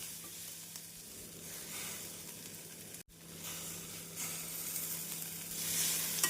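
Onions, curry leaves and coriander leaves sauté in a pan, a steady, close sizzle with faint stirring and no talk.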